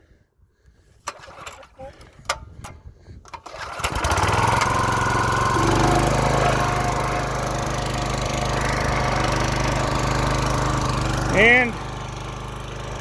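A repaired log splitter's small gas engine is pulled into life with a few sharp rope tugs, then catches and runs at a steady, loud drone, with a brief rise in revs near the end.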